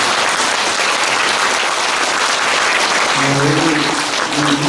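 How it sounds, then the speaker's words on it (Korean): Audience members at a Buddhist temple's year-end thanksgiving gathering clap to thank a guest, a loud, continuous wash of applause filling the room, with faint voices emerging underneath toward the end. "여러분 박수로 감사의 뜻을 전합니다."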